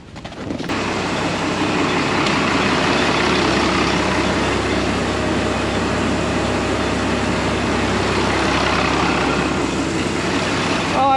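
A tractor engine idles steadily in bitter cold, around forty below, warming up so its oil can circulate. The low, constant rumble starts abruptly and holds loud and unbroken throughout.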